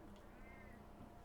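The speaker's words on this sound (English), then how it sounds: "My kitty cat." A pet cat gives a single soft, drawn-out meow, faint and close, in an otherwise quiet indoor room.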